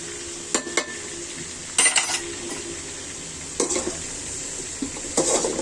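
Chili powder sizzling as it fries in a pot with mustard and cinnamon tempering for a rohu fish and cauliflower curry, stirred with a metal utensil that scrapes and clinks against the pot in several short bursts over a steady fry.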